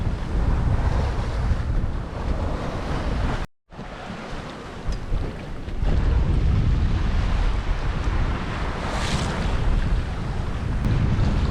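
Strong wind at sea roars steadily alongside the wash of waves against a moving sailboat hull, loud and continuous, with a brief dropout partway through.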